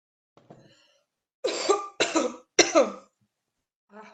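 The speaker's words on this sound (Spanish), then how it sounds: "Me agarró un ataque de tos" A short coughing fit: three harsh, rasping coughs in close succession, fairly near, with a fainter throat sound before and a brief one after.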